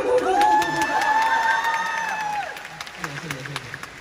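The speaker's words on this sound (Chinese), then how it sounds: "谢谢您各位的掌声鼓励" At a Deyun Society crosstalk show in Chongqing, the audience breaks into loud applause mixed with cheering and a rising whooping voice, then the clapping thins out into scattered claps.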